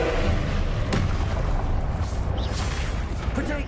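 Confringo blasting spells exploding during combat in Hogwarts Legacy, dense booming blasts that fill the whole clip with loud, continuous rumble and impacts.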